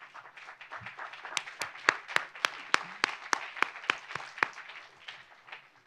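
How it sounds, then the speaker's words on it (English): Audience at a film festival's closing night clapping, sparse and fairly quiet, with a handful of sharp, distinct claps standing out over softer scattered clapping that thins toward the end. "Yeah, go ahead, applaud."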